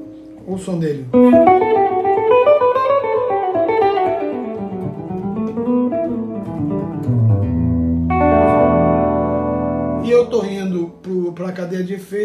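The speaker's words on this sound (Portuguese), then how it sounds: "Para a cadeia de efeitos com reverb, um plate e tem um delay também." Electric guitar through a UAD Fender Deluxe emulation with plate reverb and a quiet delay plays sliding, bending melodic lines and then a held chord, the notes smeared into a lingering wash.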